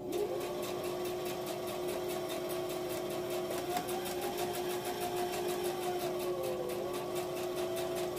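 A sewing machine stitches a medical face mask with a continuous, steady whirring hum and a faint wavering tone, close by with no voices.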